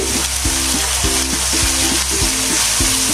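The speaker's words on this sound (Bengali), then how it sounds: "রসুন 1 টেবিল চামচ, জিরা 1 টেবিল চামচ। একটু নেড়ে চেড়ে" Garlic and cumin fry loudly in a pan, a constant close sizzle broken by a regular rhythm of spatula scrapes and stirring strokes against the metal.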